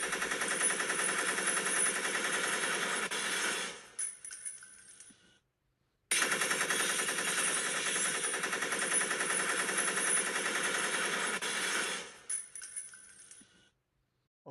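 Sustained rapid machine gun fire in two long, loud bursts, each trailing off with a few scattered shots and a brief pause between them, with no talk.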